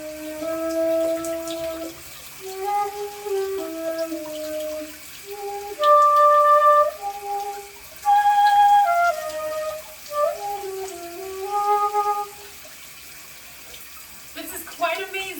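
A plastic Nuvo flute plays a clear, simple melody of sustained notes while shower water runs over it, a soft, steady hiss beneath the tones.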